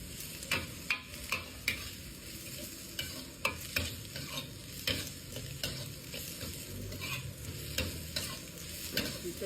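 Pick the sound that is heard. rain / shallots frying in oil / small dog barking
shallots frying in oil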